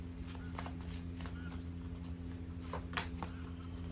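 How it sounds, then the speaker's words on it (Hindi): Tarot cards are shuffled in soft, irregular riffling and flicking bursts under a steady low background hum, with no talking. "आगे हम और शफल करते हैं और देखते हैं"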